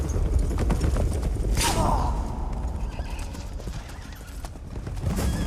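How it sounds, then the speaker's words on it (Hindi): Frightened horses in a film scene neigh loudly while their hooves clop and shuffle, with creaking and clatter around them and faint voices. "एक्चुअली वो घोड़े जो है वो डर रहे हैं।"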